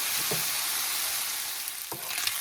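Applewood bacon fries in a pan for baked beans, giving a constant bright sizzle and crackle up close, with a couple of faint stirring scrapes.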